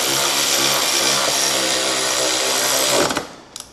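A power tool tightening bolts while a Rally 3 bike is assembled: a steady, loud whirring drone held for about three seconds, then cut off by a few sharp clicks and taps.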